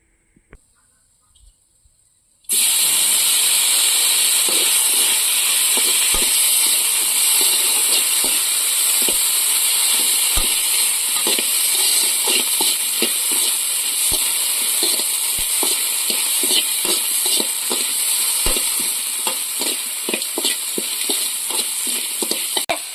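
Tomatoes frying lightly in ghee for rasam, a loud, steady sizzle and hiss after a quiet start, with scattered crackles and pops throughout and no talking.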